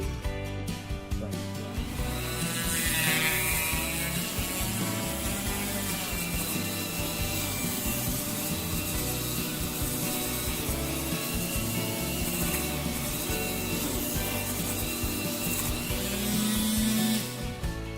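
Router-cut wood for a flexible sofa arm table is smoothed with a power sander, giving a loud continuous grinding, rasping hum that holds steady close up for the whole stretch.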